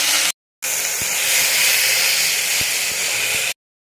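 A little water hits a hot pan of frying garlic and green chillies and sends up a loud, continuous hiss of steam lasting about three seconds, with a few faint clicks underneath.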